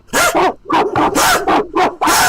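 A streamer imitates a dog with his voice, barking in a rapid series of about seven loud, close, hoarse woofs with short gaps between them.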